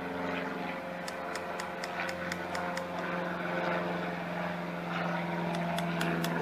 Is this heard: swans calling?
no